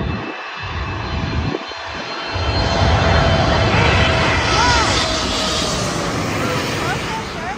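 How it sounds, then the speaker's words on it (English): A large Turkish Airlines airliner comes in to land at LAX, its jet engines building into a loud, sustained roar that swells and holds overhead, with voices briefly audible at the start. "may nakita akong aeroplano na it's going to land"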